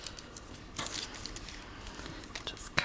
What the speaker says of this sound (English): Alright, scissors.